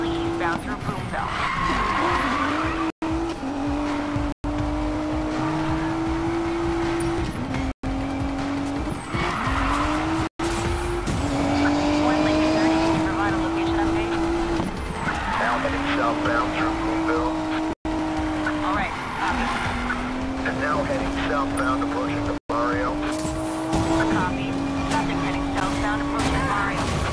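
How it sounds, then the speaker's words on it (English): An Audi S5 in a police chase in Need for Speed Payback, its engine revving hard with repeated long tire squeals and skids, loud and continuous, with a voice talking over the action. "All units, one Lincoln 30 is in pursuit of an Audi S5."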